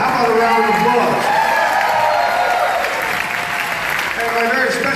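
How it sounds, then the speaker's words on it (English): A theatre crowd at a live concert in the Arcada Theatre, St. Charles, gives loud, sustained applause with scattered cheers, while someone talks over it through the sound system. "How about a round of applause?"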